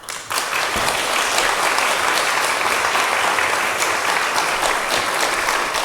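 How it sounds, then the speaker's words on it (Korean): Sustained applause from a large audience of hospital staff at an employee retreat, welcoming a pastor to the stage; dense, steady clapping starts abruptly and stays loud throughout with no talk. "나오실 때 환영의 박수를 부탁드리겠습니다"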